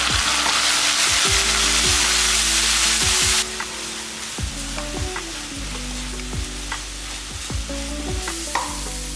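Onion paste from one large onion frying in hot oil for chicken fry, a loud dense sizzle that drops to a quieter crackle partway through, with repeated stirring scrapes and clanks of a spoon against the pan.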